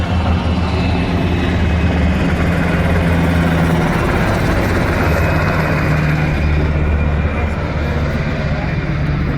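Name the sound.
helicopters flying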